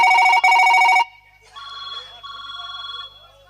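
During a stage play, an electronic telephone rings in two loud bursts, followed by fainter beeping tones as the call connects.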